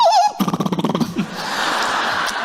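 A voice imitates a car rattling over bumpy cobblestones, a rapid stuttering burr that trails off into a hissy skid.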